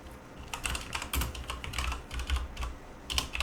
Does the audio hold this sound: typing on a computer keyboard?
yes